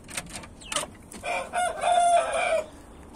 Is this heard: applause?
no